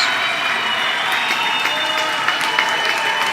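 Baseball stadium crowd of about five thousand cheering and applauding with a late-inning strike looming, a steady dense roar of claps and shouts with no talk over it.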